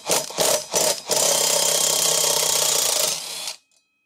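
Impact wrench loosening threadlocked brake disc screws on a Kawasaki ZX9R motorcycle: three short rattling bursts, then a sustained loud hammering whir for about two seconds before cutting off into silence.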